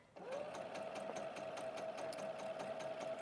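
A sewing machine runs steadily as it stitches a second line along a French seam, its fast, even whirr with rhythmic needle clatter holding close and continuous throughout, with no talking.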